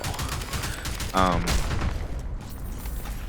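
Weapon fire from a CLAW Mk. 22 fitted with a muzzle brake and foregrip in the video game Crysis 3: a quick fusillade of sharp shots over a noisy game background, moderately quiet, with a brief tonal blip partway through.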